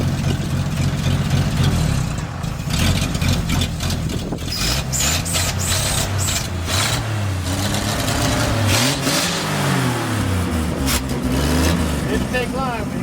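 A long-dormant 1962 Ford F-350 farm truck, just revived, runs steadily with a rough, rumbling idle and occasional revs, while people talk over it nearby.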